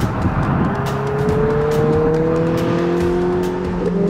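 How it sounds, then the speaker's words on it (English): A 2017 Ferrari 488 GTB with 660 horsepower running hard on a coned race track, its engine a steady loud drone with rising harmonic tones as it accelerates, heard from inside or close by with no talking. "2017 Ferrari 488 GTB. It's got 660 horsepower, and this thing is quick."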